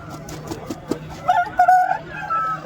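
A rooster at the Nallapadu fowl market crows with a slightly strained, not very powerful voice, a couple of rising calls over faint market clucking and background noise.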